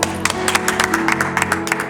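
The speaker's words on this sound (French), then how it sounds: "Applaudissez-la." A small audience claps for a participant during a personal-development workshop session, with irregular, moderately close handclaps over a steady background hum.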